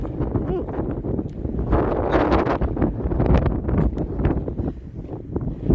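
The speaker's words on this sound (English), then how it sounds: "very windy" Strong gusty wind at a campground buffeting the microphone, a continuous roaring rush that rises and falls without any break.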